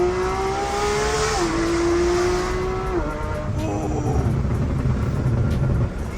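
Porsche engine revving hard with a burbly exhaust, its pitch holding high, dropping in steps through gear shifts and settling into a rumbling idle; loud, close and steady, with no talking.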